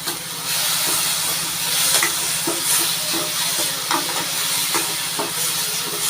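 Peanut and eggplant curry bubbling in a pan, a steady loud hiss and sizzle with soft stirring scrapes and small pops throughout, with no talking.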